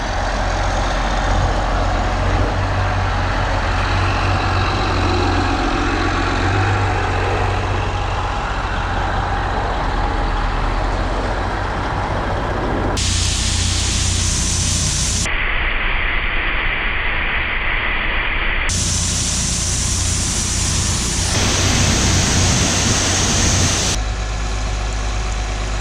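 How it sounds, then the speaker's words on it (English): Several tractors, a combine and a baler work a harvest field with a loud, continuous diesel engine drone. The engines rumble steadily throughout, with abrupt shifts in tone partway through. "We got 5 tractors going. Grain cart, combine, baler, shredder, and rake."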